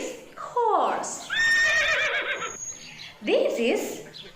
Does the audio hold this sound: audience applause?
no